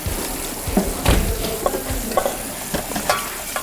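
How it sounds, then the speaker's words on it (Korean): Rockfish deep-fries in hot oil during a cooking competition, with steady crackling sizzle broken by sharper pops and stirring clatter, close and clear, with no talk over it. "일단 우럭을 그러면 튀기자."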